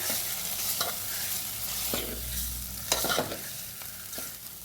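Boiled potatoes sautéed with asafoetida, turmeric and spices in a pan, with a steady close sizzle and a few scraping stirs of a spatula against the metal.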